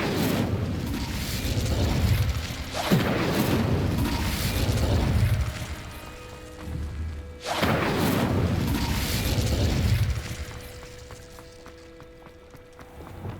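Two roaring, whooshing bursts of flame from the Incendio fire spell in Hogwarts Legacy, each flaring loudly then trailing off, set against soft sustained game music tones.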